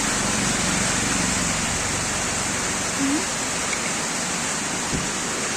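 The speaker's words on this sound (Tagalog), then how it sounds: "sobrang lakas ng ulan dito sa amin" Heavy rain roars in a loud, unbroken wash of noise, with a faint voice briefly audible beneath it.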